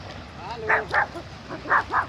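A small dog barks outdoors by rocky water, several short yappy barks in two pairs, fairly close and loud, with a person talking nearby.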